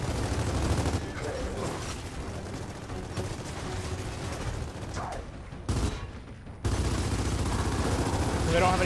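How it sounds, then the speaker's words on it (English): Gunfire in the video game Gears of War 4, with dense bursts of automatic weapon fire and explosive blasts filling the mix under players talking, briefly dropping out before the loud barrage resumes. "So nice to be back in the gunfire with these guys."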